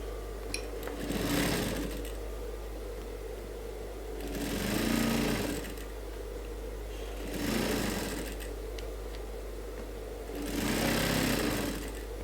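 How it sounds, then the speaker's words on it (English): A sewing machine runs a top stitch along a suit collar, whirring steadily in four bursts of stitching separated by softer pauses, close and fairly loud over a constant low hum. "you now run a top stitch on the collar mint, not on the fabric"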